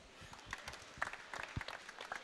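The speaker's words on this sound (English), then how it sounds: "let's have a massive round of applause for our gold medalist" Faint applause from a crowd at a British swimming championships for a gold medalist, a spread of scattered claps with a few sharper hits, heard at a distance and low in level.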